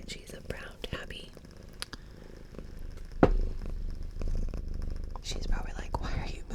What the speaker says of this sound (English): Dolce's giving you good purr sounds